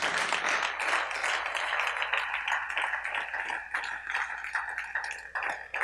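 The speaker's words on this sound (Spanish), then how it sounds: "Dele esas palmas al Rey con todo su corazón" A church congregation clapping their hands during a worship service, a dense, continuous patter of claps with some rhythmic accents, sounding fairly close and filling the room with no talk over it.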